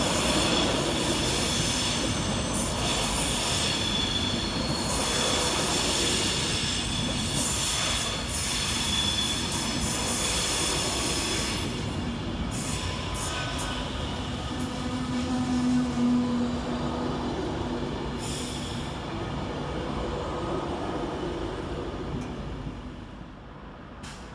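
An Avanti West Coast Class 390 electric train rolls into London Euston, a long continuous rumble of wheels with intermittent metallic squeals and clatter, slowly fading toward the end.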